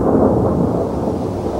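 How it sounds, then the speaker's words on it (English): A loud, sustained rumble of a thunder crash rolls on without pause, dense and low, fading only slightly toward its end. "That night, thunder and lightning crashed over Gordion"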